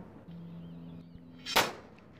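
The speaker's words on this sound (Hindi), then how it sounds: "अच्छे से जुगाड़ कार्य कर रहा है अच्छे से धमाका किया" A sudden sharp blast from a small homemade sulfur-potash device used to scare nilgai from farm fields, one loud bang after a few seconds of low steady hum.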